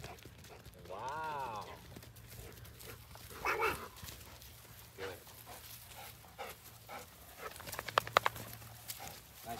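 A mini Bernedoodle makes faint whines and small vocal sounds at a distance, mixed with rustling and shuffling, while people talk and coo over it throughout.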